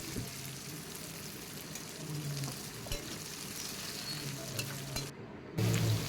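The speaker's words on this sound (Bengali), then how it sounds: "তো পেঁয়াজটা দেখতেছেন মোটামুটি হাফ ফ্রাই হয়ে গেছে" Two medium onions fry in a pan with a continuous close crackling sizzle and occasional stirring scrapes, steady and fairly loud, with no voices over it.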